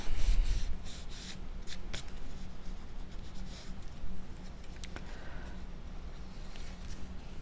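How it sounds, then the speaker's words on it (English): Cardstock is folded over along the edge of a handmade card with soft, close rubbing and scraping. Several brief crisp crinkles punctuate the sound, and no one speaks. "I'm laying this against the back of the card and then folding this edge over."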